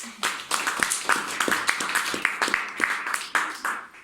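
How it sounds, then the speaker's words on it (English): A small club audience at an annual general meeting claps for a contest winner, giving steady, fairly sparse hand claps with some separate sharp slaps, moderately close, for about four seconds. "I think in absentia we should give her some applause."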